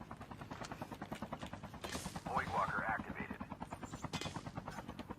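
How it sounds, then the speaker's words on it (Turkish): A helicopter in the Call of Duty Mobile battle royale game, a fast rhythmic rotor chop running throughout, with bursts of gunfire in the middle and people talking over it. "Helikopter helikopter."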